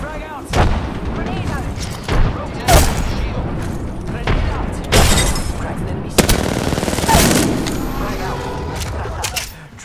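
Gunfire and explosive blasts from an Apex Legends match, with several loud broadband bursts and rattling shots spread across the span, a frag grenade among them, while players talk over the action.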